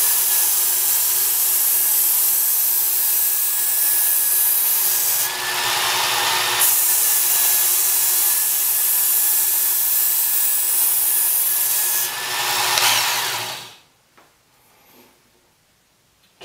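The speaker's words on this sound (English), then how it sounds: "I'm going to take a couple, one or two more passes, just to make sure the scratch pattern is totally gone from the previous belt" A Work Sharp Ken Onion Edition variable-speed belt sharpener grinds a knife edge in a steady, loud motor-driven rasp with a high whine, two brief louder passes mid-way, then the motor cuts off near the end.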